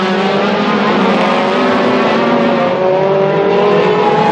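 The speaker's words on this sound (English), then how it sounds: "These are really on the move, these cars, I'll tell you. This is flat out stuff here." Outlaw Hot Rod race cars run flat out around an oval track at the Arena Essex Rolling Thunder Show finals, their engines blaring in a loud, continuous roar close by.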